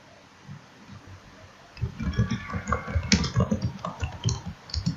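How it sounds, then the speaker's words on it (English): Computer keyboard typing answers into a flashcard quiz, with a fast, irregular run of close keystroke clicks and taps that starts partway through and keeps going to the end. "You have to type your answer."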